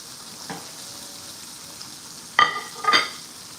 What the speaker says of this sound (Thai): ทอดพริกนะคะ